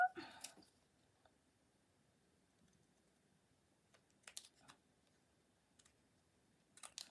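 Paper cut for a handmade Christmas card: sparse, faint crisp clicks of the blades come in small clusters, separated by long near-silent gaps.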